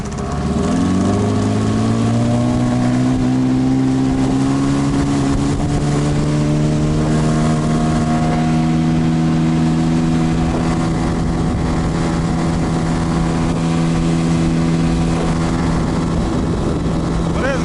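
A Yamaha 9.9 outboard boat motor runs steadily at a fairly constant pitch, close and loud, with a faint rise in tone over time and no talk.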